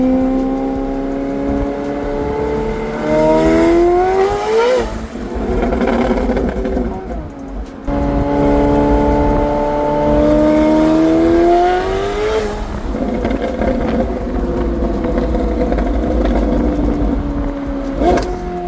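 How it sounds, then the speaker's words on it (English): A 1000-horsepower McLaren 750S running on E85 screams through hard acceleration, its engine note climbing steeply in pitch, then snaps through downshifts with loud cracks and pops. Two full rising pulls and a third begin, loud and close, with people talking over the engine. "That downshift is just stupid. Cracking, throwing flames."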